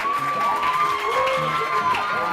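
Audience at a school competition between C Saint Michel and C Saint André cheers and applauds, a steady crowd roar with shouts and clapping that carries alongside sung or voiced tones throughout.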